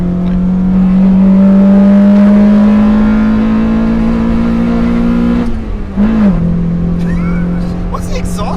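A 1999 Honda Civic Type R engine revs, its steady tone climbing loud and close through the gears before easing off and briefly rising again, while people talk inside the car.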